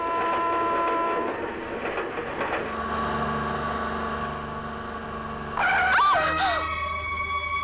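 A train rumbles steadily along with rattling wheels and tonal hum, then a loud metallic screech of brakes or wheels near the end.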